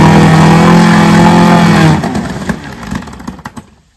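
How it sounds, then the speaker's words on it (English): A vintage outboard motor with its propeller fitted runs loud and close with a steady harmonic drone, then cuts off about halfway through into a sputtering, clattering rundown that fades to quiet. "Let's start the motor,"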